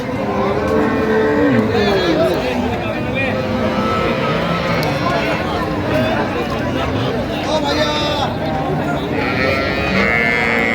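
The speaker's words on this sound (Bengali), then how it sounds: "সুন্দর গাভীর বাছুর আমরা দেখছিলাম" Cows mooing repeatedly at a busy cattle market where cows with calves are sold, the lowing calls rising over steady crowd babble and nearby talk.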